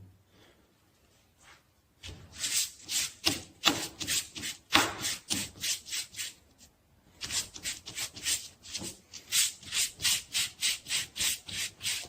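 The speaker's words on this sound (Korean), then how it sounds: "이 사포를 이용해서 이 에나멜 끝선을 사포를 긁어줍니다." Rapid, rhythmic scraping of sandpaper against the ends of enamelled copper wire for a homemade metal detector, close and fairly loud, in quick strokes with a short pause midway, no voices.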